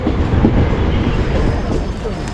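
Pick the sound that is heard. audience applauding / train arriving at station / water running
train arriving at station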